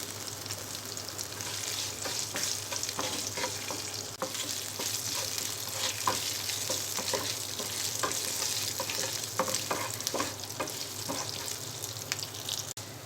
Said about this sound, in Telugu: ఇందులో ఎండుమిర్చి, వెల్లుల్లిపాయలు, కరివేపాకు వేసుకోవాలి